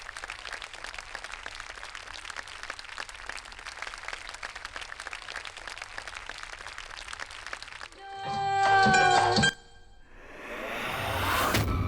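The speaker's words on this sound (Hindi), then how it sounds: "चलो चलो चलो चलो, ताली मारो ताली मारो।" A group of people clap steadily for about eight seconds, a dense, even patter of many hands, before a loud ringing metallic clang and a burst of noisy rustling cut in.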